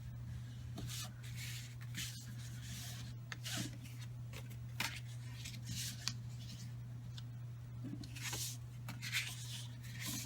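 Paper card pieces being folded and burnished by hand, soft close rubbing and crisp swishes repeating over a steady low hum, quiet and without talk.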